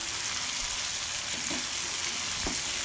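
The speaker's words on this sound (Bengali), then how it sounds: "এই পর্যায়ে আমি এখানে অ্যাড করছি টক দই আর বাদামের পেস্ট। নেড়ে চেড়ে ভালো করে মিশিয়ে নিব।" Fish kaliya spices sizzling in a pan as yogurt and cashew paste are stirred in, a steady close frying hiss with soft scraping stir strokes.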